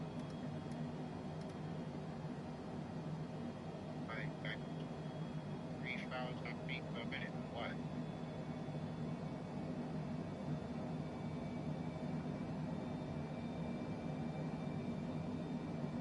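Airliner engines in Microsoft Flight Simulator 2024 drone as a low, steady, faint hum throughout, with a few brief chirps from the cockpit partway through.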